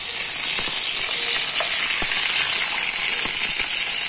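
A paste of ground melon seeds, cashew, tomato, green chili and salt sizzles loudly and steadily in a hot pan while being made into butter paneer masala, with faint scraping from stirring and no talk.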